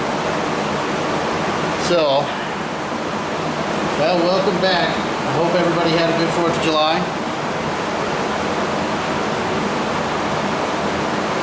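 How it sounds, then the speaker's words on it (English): Electric fan running steadily in a hot home workshop during work on a 1974½ MGB passenger door skin, a constant broadband whoosh filling the whole clip beneath someone talking. "Sorry about the fan behind me, but I gotta have it on."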